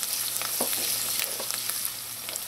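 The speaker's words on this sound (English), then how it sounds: "When your oil is nice and warm, you're going to add in your onions." Onions and garlic sizzle steadily in warm oil in a pan for a Trinidad fried okra dish, a constant loud hiss with a few scattered crackles and light stirring taps, no talking.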